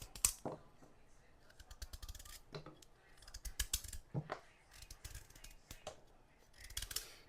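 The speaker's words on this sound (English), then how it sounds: "Much better view of me cutting off the skin off this pumpkin." A knife works through the very hard skin of a Jamaican pumpkin, making close, irregular clicks, scrapes and cracking snips in uneven bursts with short pauses between cuts.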